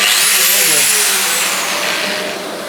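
Ceramic tile being cut with a Distar diamond disc on an angle grinder, a loud, close, high-pitched whining grind that holds steady and tapers slightly at the end.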